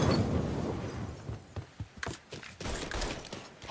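Gunfire in the video game Mafia 3: a dense fusillade of rapid shots that opens the clip, breaks into a few separate cracks, then swells back into sustained bursts, close and loud.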